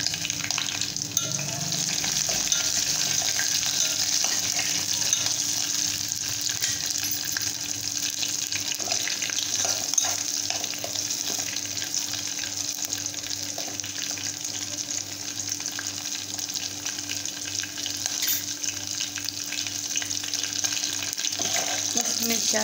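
Green chillies and garlic frying in oil for a Marathi-style spiced buttermilk tempering, a steady, close hiss and sizzle that holds constant throughout, with faint stirring noises mixed in and no talk.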